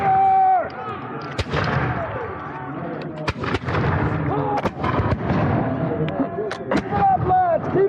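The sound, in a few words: musket and cannon fire at a Revolutionary War reenactment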